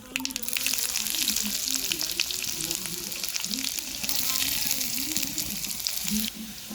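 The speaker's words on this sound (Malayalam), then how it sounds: "ഈ ഉള്ളി ഒരു ബ്രൗൺ കളറായി വരുന്നുണ്ട്" Chopped onion fries in hot oil with a constant crackling sizzle, punctuated by occasional stirring sounds, fairly close.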